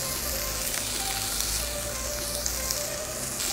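Blanched, chilled vegetables sizzle and crackle steadily in a hot pan as they are tossed, a constant close frying hiss throughout with no talking.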